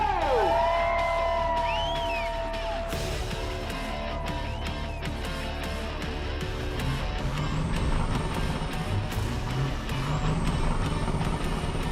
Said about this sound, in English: He pulls up to the start line in his fan-packed Silver Western Star for the first race of the day.